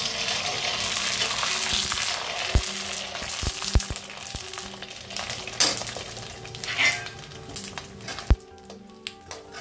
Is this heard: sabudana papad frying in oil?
yes